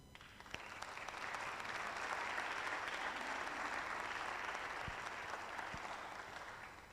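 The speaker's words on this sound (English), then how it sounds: "I think the panelists deserve a round of applause." Audience at a GEO-18 session on oceans, climate and biodiversity gives the panelists a round of applause, building quickly to a steady, moderately distant clapping that holds and then starts to thin near the end.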